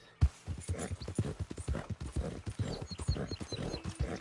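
Horse hooves clip-clop in a quick, steady rhythm close by in the video game Red Dead Redemption 2, with faint background ambience and no speech.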